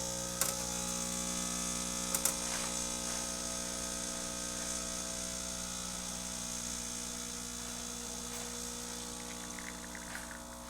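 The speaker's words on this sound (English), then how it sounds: "I'm just going to pull a shot just to show you that everything's working." Expobar Brewtus IV espresso machine, freshly serviced, pulling a shot: a steady loud pump drone with constant hum runs throughout, with a few brief clicks near the start and toward the end.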